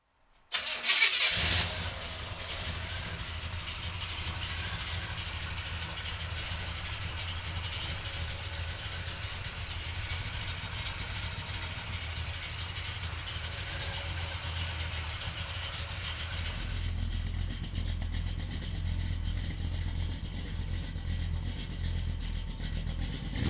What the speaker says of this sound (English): we'll fire this 454 up for you right now